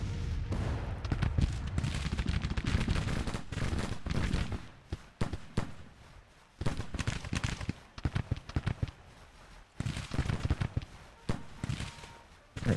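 Regiments exchange gunfire in Grand Tactician, a Civil War strategy video game, with crackling musket volleys and scattered shots rolling on almost continuously. Firing comes in dense bursts separated by brief lulls.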